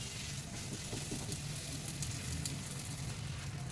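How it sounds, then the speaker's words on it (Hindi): Roti warming with butter on a tawa over a gas flame, giving a steady, faint, close sizzle throughout with no talking. "हम थोड़ा थोड़ा मक्खन लगा के इसको गरम करेंगे"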